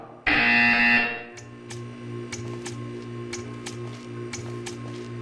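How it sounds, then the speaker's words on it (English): A loud, harsh buzzer in Portal 2 blares for under a second, then gives way to a steady electronic hum with faint rhythmic ticking clicks. "You will hear a buzzer."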